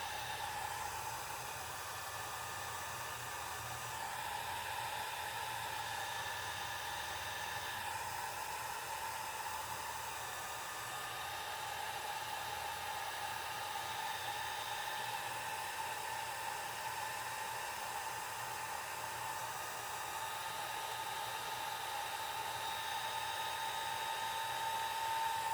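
A blow dryer runs in a steady, faint, unbroken whir and hiss as it blows alcohol ink into rose shapes, a constant tone with no pauses.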